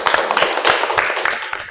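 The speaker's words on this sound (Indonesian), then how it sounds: "Tepuk tangan dulu" A classroom group claps together in a dense, steady burst for about two seconds, loud and close, during an Indonesian lesson on managing emotions.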